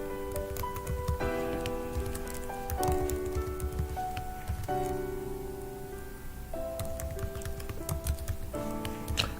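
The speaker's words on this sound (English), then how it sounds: "type in the search phrase." Someone types a search phrase on a computer keyboard, producing soft, irregular key clicks that run under quiet background music with sustained chords.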